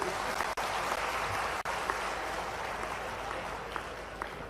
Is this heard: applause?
yes